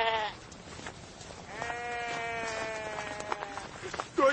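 A flock of sheep bleats in a drawn-out, wavering cry that rises over a rough, steady outdoor background, with a shorter bleat at the end.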